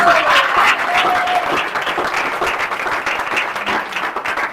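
A congregation claps steadily and cheers in praise of the Lord during a morning church exhortation, a dense, loud wash of applause that holds for the whole stretch with faint voices blended in.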